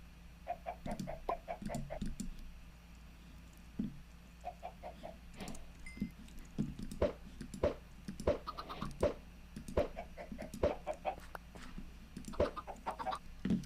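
Chickens in the Minecraft video game cluck in quick repeated bursts of short calls, close and moderately loud, with scattered clicks between them and no talking.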